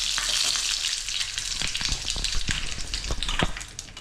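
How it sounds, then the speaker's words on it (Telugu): Dried red chillies, mustard seeds and lentils sizzle and crackle in hot oil for a sambar tempering, a steady close frying hiss with occasional sharp pops and stirring scrapes. "ఎండుమిరక చక్కగా వేగాలి"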